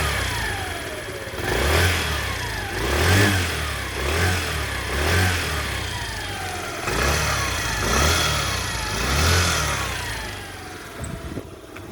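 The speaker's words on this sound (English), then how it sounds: "This Kymco People S sounds normal." A Kymco People S 50cc scooter engine revs repeatedly in rhythmic bursts, each rising whine falling back toward idle, close and loud with no voices, a steady pulse of throttle blips across the whole stretch.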